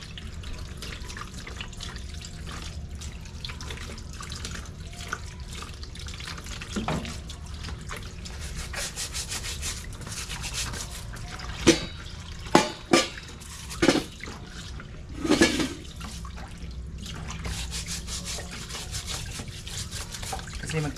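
Water runs steadily from a kitchen tap as items are washed in a sink, with a constant close stream and a few louder splashes and knocks partway through.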